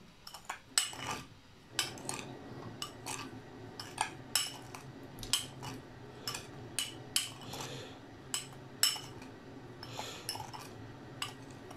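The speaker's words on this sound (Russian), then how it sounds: "Перемешиваем соль со специями." Salt being mixed with spices in a bowl, a series of sharp clinks and scrapes of a utensil against the bowl repeating every second or so, fairly quiet and close.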